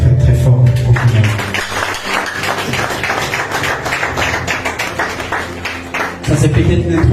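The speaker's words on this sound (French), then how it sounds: "Je vous demande d'applaudir très très très fort en finale" Loud, dense applause from a seminar audience of consultants, rapid overlapping claps forming a continuous roar, with music and a voice around the edges.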